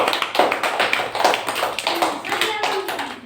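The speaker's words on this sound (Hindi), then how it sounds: "ताली हो जाए उसके लिए।" Schoolchildren in a classroom clap together in a steady, even rhythm, close and fairly loud, with a teacher's voice faintly heard behind.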